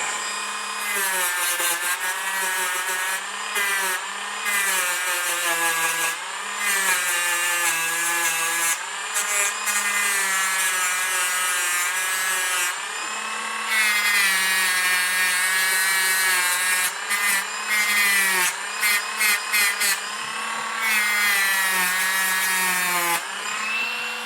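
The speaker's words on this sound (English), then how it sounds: "this needs a soft sanding paper type of head, and this actually works quite nicely for me" Continuous high-pitched whine of a small rotary tool with a soft sanding head grinding a carburetor's metal at low speed, steady and close, with slight pitch shifts as pressure varies.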